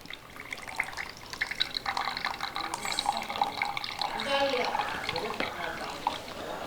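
Blended weight-loss juice is poured from a mixer jar into a container, making a steady, continuous liquid splash at moderate volume. A voice is faintly present underneath.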